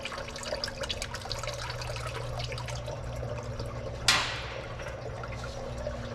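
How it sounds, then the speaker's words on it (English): Engine oil drains from the oil pan of a GMC Denali truck in a steady, soft pouring trickle, broken once by a sharp metallic clank partway through. "We'll let that drain"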